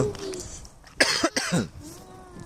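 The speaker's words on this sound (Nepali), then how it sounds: "हल्का खोकी लागेको छ" A person coughs a few times in a quick, short burst, close by, amid quiet background noise.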